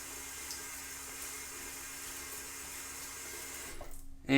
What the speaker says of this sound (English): let me wet the face just a little bit